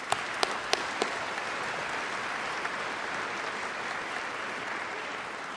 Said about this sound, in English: For now, let us recognize them with a round of applause.